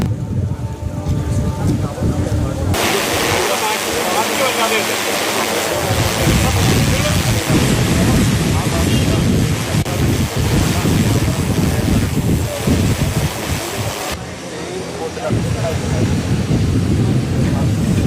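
Strong wind and rain lash Shirur during a rescue operation, a steady loud roar of gusts buffeting the microphone throughout, with a reporter's voice talking over the weather.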